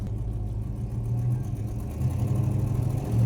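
A 1969 Plymouth Roadrunner's engine drones steadily from inside the car while driving, a loud low hum holding under road noise and swelling slightly toward the end.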